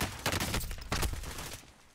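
Bursts of automatic gunfire in a Plunder-mode match of a shooter game, two or three quick rattling volleys at moderate distance, fading out toward the end.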